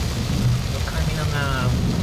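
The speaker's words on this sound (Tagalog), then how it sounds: "Sobrang baha na. Grabe. Lakas ng ulan." Heavy habagat monsoon rain pours down in Quezon City's Fairview area on a flooded road with near-zero visibility, a dense, steady roar of water that never lets up across the short stretch.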